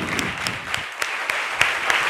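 An audience at a Christian sermon claps in a brief, loose round of applause, with distinct claps standing out over a background of lighter clapping.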